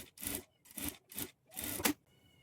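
A sewing machine stitches blouse fabric at a quarter-inch margin in four short bursts of whirring, each about a quarter second, separated by brief silences; close and fairly quiet, with no talk.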